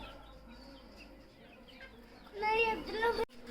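Hens on a rooftop aseel chicken setup cluck in a short loud burst near the end, after a quieter stretch with faint bird sounds in the background.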